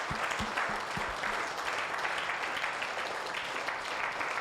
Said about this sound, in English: The first clap.